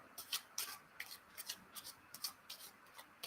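A deck of playing cards is shuffled in a run of short, crisp riffling bursts at an even pace, close and soft, with no talking.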